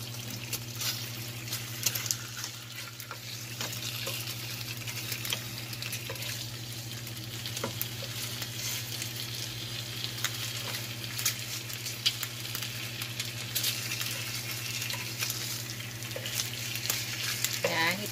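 Pork belly (liempo) sizzles and fries in a pan, a steady, close crackling hiss with small pops running throughout and a constant low hum underneath, no voices.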